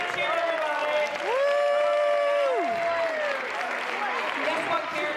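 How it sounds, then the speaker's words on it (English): A comedy magic show audience claps and cheers for a volunteer, with steady applause joined midway by a long held vocal whoop that rises, sustains, then falls away while the clapping carries on. "Give Karen a big cheer, everybody."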